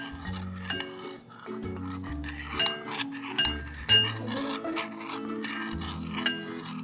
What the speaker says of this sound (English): I'm just gonna stir it a little bit more